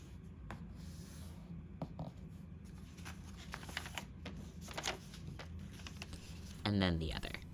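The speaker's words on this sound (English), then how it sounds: "We're now going to fold both of the long ends towards that middle." Sheet of paper for a printable oracle card deck being folded, its long ends creased toward the middle: soft rustles and scrapes, then a louder crinkling swipe at the end, with a voice talking over it.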